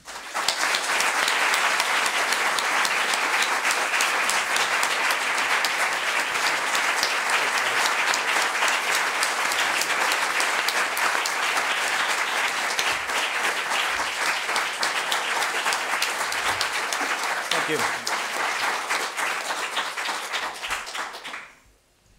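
A large audience gives loud, sustained applause to welcome a speaker to the podium at an academic event, a dense unbroken roar of clapping lasting over twenty seconds before cutting off abruptly.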